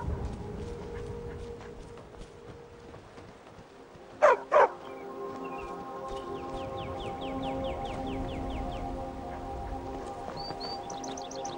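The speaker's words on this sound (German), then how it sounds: "Hund." A dog in Skyrim gives two quick sharp barks midway through, standing out over quieter outdoor game ambience with faint birdsong and soft musical tones.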